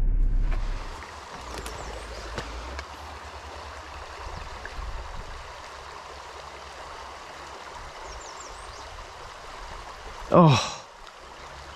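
Small mountain stream in southern Vermont rushing steadily throughout, a close, continuous broadband flow of water, with a brief exclamation and a short splashy burst near the end.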